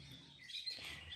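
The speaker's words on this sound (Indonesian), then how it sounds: "Suaranya kebanyakan kayak suara cendet kawan." A green leafbird (cucak ijo), recovering from a hoarse voice, chirps and twitters in a hanging cage, with quick high tweets that come and go over faint background noise.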